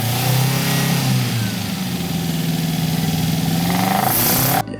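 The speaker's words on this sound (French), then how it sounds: "Ce moteur supporte très bien d'être maltraité, facile à modifier et robuste, et son bruit est reconnaissable entre 1000." A Toyota 4AGE four-cylinder engine revs hard, sweeping up and down through the rev range, loud and close, with a brief drop near the end.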